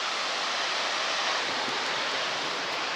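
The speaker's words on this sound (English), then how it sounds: "before the Snake River makes its gentle flow downstream, we find a huge waterfall. This is Shoshone Falls." Shoshone Falls, a huge waterfall on the Snake River at Twin Falls, Idaho, makes a steady, dense roar of rushing water that holds at an even level with no voices over it.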